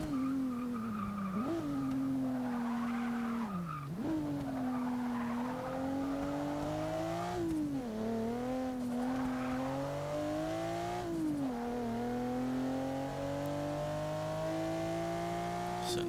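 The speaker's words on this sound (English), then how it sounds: "Certainly sounds good with its original V6." A 1997 Mitsubishi GTO's original V6 in Forza 6 drones steadily at racing speed, its pitch rising and dipping through several gear changes, with tires squealing through the corners, loud and continuous with no talk.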